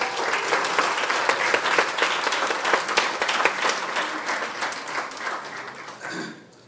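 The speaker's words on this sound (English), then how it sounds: "you guys can do a better job with the applause" An audience at a book launch event applauds, a dense, steady wash of many hands clapping that holds loud for several seconds before tapering off at the end.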